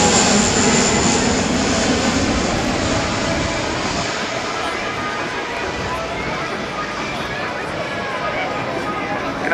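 A Lockheed C-130J-30 Hercules flies past at an air show open house, its loud broadband engine roar filling the air and slowly easing off, with a voice talking over it.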